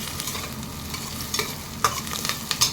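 Onions fry in a pan, turning golden, with a steady close sizzle broken by several scraping stirs of a spoon against the pan.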